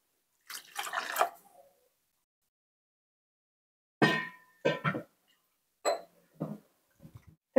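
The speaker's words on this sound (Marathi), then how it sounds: "थंड पाण्याने धुवून घ्यायचं आहे." Homemade butter being washed by hand in cold water while making ghee, heard as close, wet splashing and sloshing in a few short bursts separated by silent pauses.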